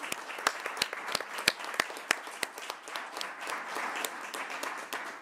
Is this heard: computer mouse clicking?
no